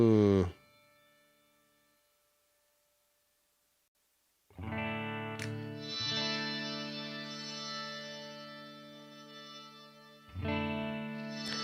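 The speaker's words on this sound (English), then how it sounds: "We can do like a shimmer reverb over here." Electric guitar chords through a Headrush MX5 shimmer reverb ring out into a long, shimmering tail, a decaying strum, a pause of near silence, then sustained washed-out chords swelling back.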